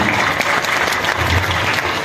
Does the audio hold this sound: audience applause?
yes